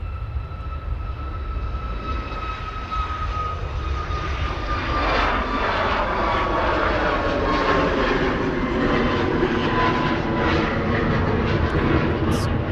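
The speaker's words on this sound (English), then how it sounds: "hang on, Ryanair's rolling" A Ryanair Boeing 737 MAX jet on its takeoff roll at Manchester Airport, engines rising from a whining hum into a loud, building roar that swells and holds near, with no talk.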